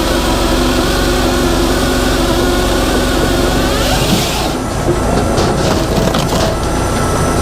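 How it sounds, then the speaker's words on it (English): An 18-24hd gas machine's motor and saw run steadily and loud throughout, a constant droning engine with a harsher cutting tone layered on top, no voices present. "you can actually hear the motor,"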